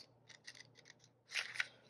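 Scissors snip through origami paper in a few quick light cuts, first soft and spaced, then two louder close crisp snips near the end, with no voices.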